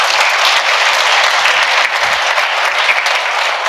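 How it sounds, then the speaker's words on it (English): Audience applause during a church service, a dense, steady wash of many hands clapping close and loud throughout, with no talk over it. "How about a round of applause for Hannah and Alex?"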